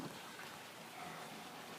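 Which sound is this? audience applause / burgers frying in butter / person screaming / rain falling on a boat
rain falling on a boat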